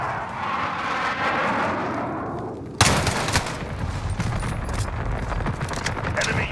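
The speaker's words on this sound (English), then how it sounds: "Enemy white phosphorus incoming." A white phosphorus airstrike in Call of Duty Modern Warfare hits hard after a rising whoosh, with a sharp loud impact followed by crackling bursts and rumbling explosions, while a voice speaks over it.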